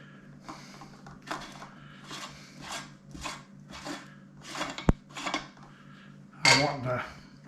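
Metal parts of an electric meat grinder being taken apart after grinding pork, a series of close clinks, scrapes and knocks with a sharp clatter near the end.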